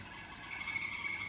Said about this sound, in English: now we can hear that our kettle is boiling